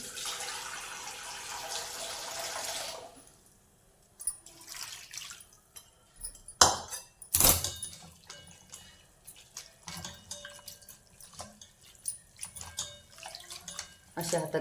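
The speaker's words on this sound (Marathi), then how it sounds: "हे आता मी असं थंड पाणी घालून घेतलं भाजीवर" Cold water is poured over cooked amaranth leaves, a rushing pour for about three seconds that drops away and is followed by lighter splashes, drips and handling noises, with a person talking over part of it.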